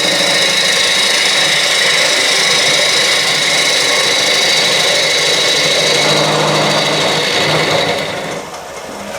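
A wood lathe spins a natural edge bowl turned from a tree limb while a cutting tool bites in, giving a steady, loud whining hum with a rough scraping texture that eases off near the end.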